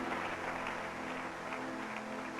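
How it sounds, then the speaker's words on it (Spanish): A church congregation applauding the Lord during a worship service, a steady, dense wash of clapping that fills the whole moment at a moderate, somewhat distant level with no voices on top. "Dale un aplauso al Señor"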